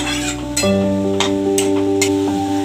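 Leafy vegetable bhaji of cowpea leaves, pumpkin and dill with green chilli, onion and coriander being stirred and mixed in a pan, with scraping strokes of the spoon over a soft sizzle and a steady tonal hum, no voices.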